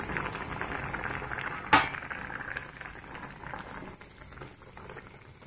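A pot of food simmering at a steady boil, a constant bubbling hiss with one sharp clank near the start, fairly loud and close, with no talking.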